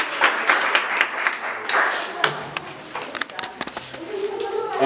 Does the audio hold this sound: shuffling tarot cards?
no